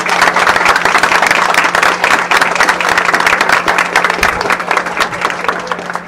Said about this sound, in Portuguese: a quem eu peço até uma salva de palmas para ele